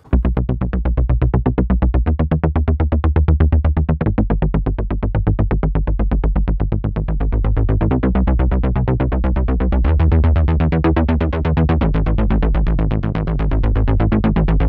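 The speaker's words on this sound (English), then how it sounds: "Bass Dark is a rolling bass" A dark rolling bass synth preset suited to Stutter House and higher-tempo dance tracks pulses in rapid, continuous buzzing notes, distorted and dense, playing alone for the whole stretch without any voice.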